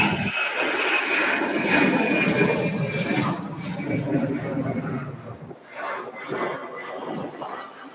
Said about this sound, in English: the next MD-11 is a X-Tie Airways, which will be rolling